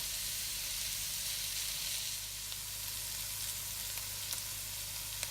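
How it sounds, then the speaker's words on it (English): Curry goat frying in a pan for Jamaican curry goat, giving a steady, close sizzle and hiss with a few faint clinks of stirring, no talk. "Let that fry off for a little bit."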